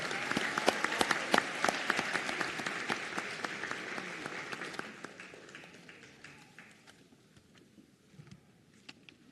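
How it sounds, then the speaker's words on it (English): Applause for graduating nursing students at a nursing pinning ceremony, crisp claps from a crowd, fairly distant, thinning over several seconds to scattered claps and near quiet. "Round of applause for these graduates."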